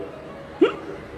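During a live Shiv Mahapuran religious discourse, a voice imitates a hiccup with one sharp, loud vocal catch midway through an otherwise quiet stretch.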